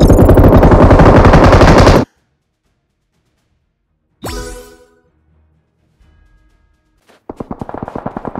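A loud burst of rapid automatic gunfire in Battleground Mobile India on the Livik map for about two seconds, then silence, a short sharp shot with ringing tail, and another rapid burst starting.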